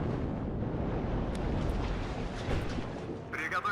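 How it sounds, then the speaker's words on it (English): Artillery fire landing on supply units in the video game WARNO, a dense continuous rumble of overlapping distant blasts and booming impacts, steady and loud throughout with no clear gaps. "Oh, we're already taking artillery fire onto our supply."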